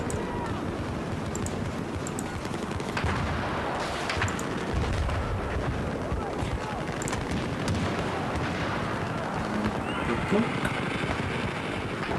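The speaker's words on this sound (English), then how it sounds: "Stop putting your mortar there. I like the mortar in this game." Mortar fire in the video game Battlefield 4, heard as dense, continuous battle noise with rumbling booms and scattered gunfire throughout, fairly loud with no clear pauses.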